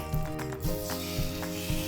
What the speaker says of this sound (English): It's a good sizzle.